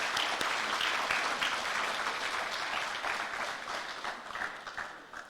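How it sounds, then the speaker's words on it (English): Applause from the audience at an academic lecture event, sustained and fairly loud from start to finish, tapering slightly toward the end. "Can we give him another round of applause"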